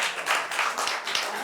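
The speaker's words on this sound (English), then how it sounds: "Why are you applauding that?" A live studio audience at a book interview claps in a brief, dense burst of applause that runs evenly for a moment with no voices over it.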